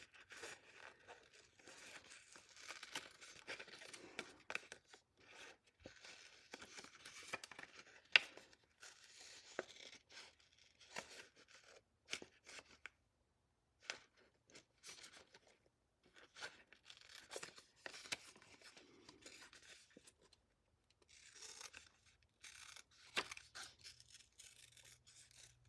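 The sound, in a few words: scissors trimming a yellow paper piece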